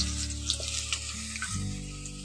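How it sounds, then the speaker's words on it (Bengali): Potatoes frying in hot oil in a heated kadai, a steady close sizzle with faint crackles running throughout the short stretch, with no talking. "আলুগুলোকে একটু ভেজে নিচ্ছি।"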